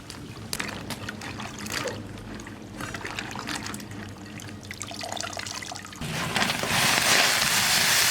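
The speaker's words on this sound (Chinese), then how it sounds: "现在我就洗一下，过一下水" Fresh okra is rinsed under running tap water, a steady splashing trickle that turns into a louder, brighter gush of flowing water near the end.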